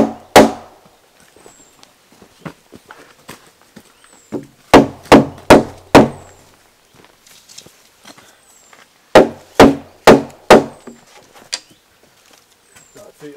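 Loud, close hammer blows strike timber framing for a hydroelectric powerhouse in quick bursts of four or five, separated by quieter knocks and pauses.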